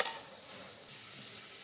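A dish being stirred in a pan for a Kathiyawadi ras recipe, giving a soft, steady scraping hiss that runs close and quiet for the whole stretch after a brief sharper scrape at the start.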